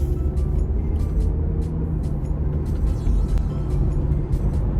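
Inside a cold car in winter, the engine idles with a steady low hum while the heater fan blows, a constant interior drone with faint clicks and no talking.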